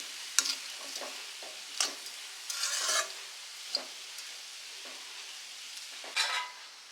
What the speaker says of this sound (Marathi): ते आपण छानपैकी हलवून घेऊया म्हणजे आपले पोहे रेडी होतील